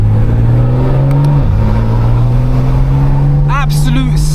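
A tuned 1400bhp BMW M3 Touring engine droning loud and steady from inside the car, pitch dipping then holding, with someone talking over the constant engine roar.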